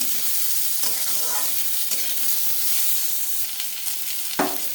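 Onion sautés in a pan for red sauce pasta, a steady close sizzle with occasional stirring scrapes and no talking.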